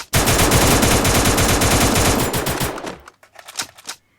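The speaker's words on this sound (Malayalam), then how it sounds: "ഒന്ന് വെടിയേക്കാം." Rapid automatic gunfire from the Free Fire battle royale mobile game, loud sustained bursts lasting about three seconds, then a few scattered quieter shots and clicks as it tails off.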